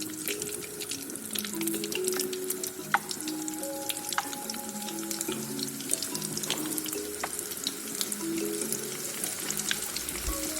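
Beef seekh kebabs fry in hot oil in a karahi, giving a steady, close sizzle that keeps up without pause, with faint tonal hum drifting underneath.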